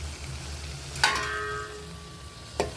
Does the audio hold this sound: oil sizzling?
yes